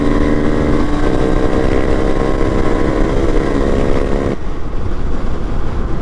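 A Honda CRF300L Rally motorcycle pulls hard in third gear, its engine note rising in a loud steady drone before dropping abruptly near the end as the revs fall away.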